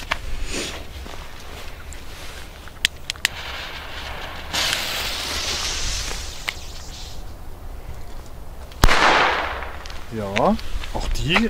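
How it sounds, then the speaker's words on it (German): Sharp cracks and bangs of firecrackers from a Weco Atomic Pack assortment pop irregularly, one big blast near the end, with crackling hiss and rustling in between. "dann machen wir ja noch die B-Böller"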